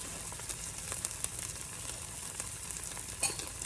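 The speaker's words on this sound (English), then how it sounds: "I'm just going to let that fry." Cheese for birria tacos fries in a pan, a close, steady crackling sizzle with small pops and light scraping, no talk.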